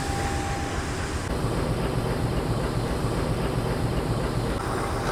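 A CC201 diesel locomotive idles at a station, giving a continuous, loud, rumbling engine drone with steady low throb and no talk.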